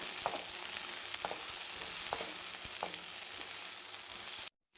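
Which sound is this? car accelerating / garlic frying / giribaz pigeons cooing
garlic frying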